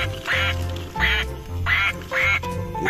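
A duck quacks four times in a steady rhythm, loud and close, over a low continuous hum.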